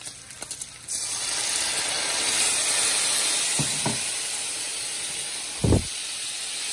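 Whiskey poured into sizzling bacon in a skillet for a corn dish sets off a loud steady hiss that rises and slowly eases, with a couple of brief clinks and a knock.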